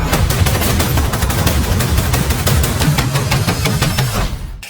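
Dense, continuous gunfire fills a Batman film scene in a club, rapid shots crackling nonstop over a heavy low rumble, loud and close throughout, cutting off abruptly at the end.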